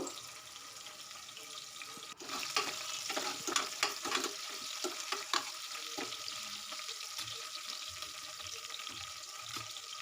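Green chillies and curry leaves fry in a pan with a steady, close sizzle, broken by louder clattering scrapes from stirring in the middle; no one speaks.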